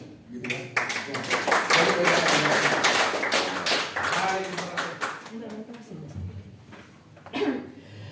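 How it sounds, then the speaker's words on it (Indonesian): Audience applause at a corporate event honoring a company director, a steady burst of clapping with scattered taps and murmuring voices, dying down then briefly swelling again near the end. "Kasih tepuk tangan yang lebih semangat ya."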